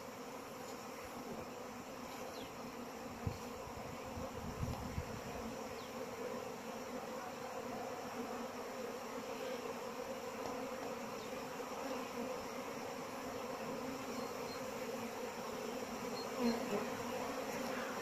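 Honeybees pour out of their hives on a spring day, a dense continuous buzzing hum that stays even and fairly close for the whole stretch, with a few faint knocks and no talking.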